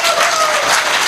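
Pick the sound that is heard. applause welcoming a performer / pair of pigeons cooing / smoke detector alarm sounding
applause welcoming a performer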